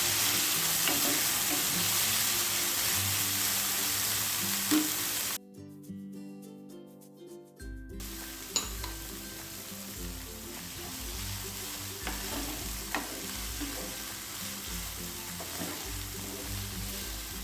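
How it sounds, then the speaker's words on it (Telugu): Peanuts and green peas frying in a pan, a steady close sizzle with stirring scrapes, briefly cut off before the frying resumes, no speech. "తర్వాత అందులోకి వేరుశనగ పప్పులు, పచ్చి బఠానీ వేసి 1 నిమిషం పాటు ఫ్రై చేయండి."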